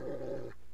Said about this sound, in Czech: Slyšíte toho psa ještě?